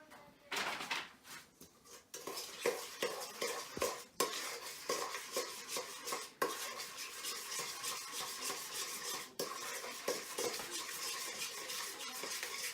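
A big spoon stirs a buttery sticky bun mixture in a bowl, giving a steady run of close scraping, rubbing strokes with occasional clinks, continuous over about thirteen seconds with no talking.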